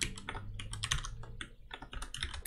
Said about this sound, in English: you see me typing the wrong thing